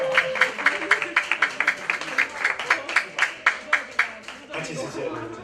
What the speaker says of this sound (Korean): 자, 우리 큰 박수로.